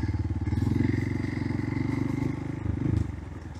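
Motorcycle riding over rough off-road terrain, a loud, close engine with a pulsing rhythm and rattling, clattering bumps as it moves along.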